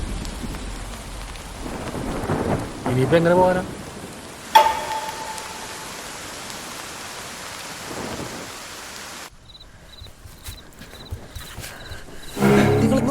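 Steady rain pours in a Malayalam action thriller movie scene, with a sharp crack of thunder and low rumbles rolling over it. A voice speaks briefly and softly near the end.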